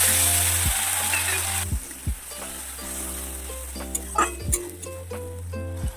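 Spice paste of ground green chilli and turmeric sizzles and fries in hot oil in a pan, a steady close crackle broken by a few soft stirring clinks and scrapes.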